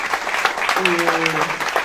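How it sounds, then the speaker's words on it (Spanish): The audience at a book presentation by author Sergio Ramírez applauds with dense, continuous clapping, while a voice briefly sounds over it partway through. "os pido un aplauso muy grande para Sergio, Julita"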